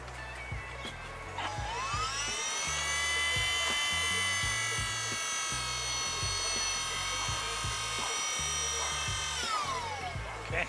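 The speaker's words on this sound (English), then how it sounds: "I'm going to use this battery to power this pump." Electric power steering pump from a Cutlass electric conversion, bench-run on a battery, spins up with a rising whine, holds a steady high hum for several seconds, then winds down, with clicking and handling noise underneath, fairly faint.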